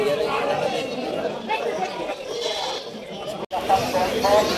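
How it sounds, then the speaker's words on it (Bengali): Goats bleat repeatedly at a busy wholesale goat market (haat) in Hoybatpur, several calls rising over a constant murmur of crowd chatter from buyers and sellers. "প্রচুর ছাগল দূর দূরান্ত হতে অনেক ক্রেতা বিক্রেতা হাটে আসা যাওয়া পাইকারি হাট ছাগলের হাট"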